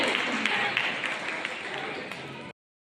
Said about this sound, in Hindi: जोरदार तालियों से इनका भी स्वागत किया जाए।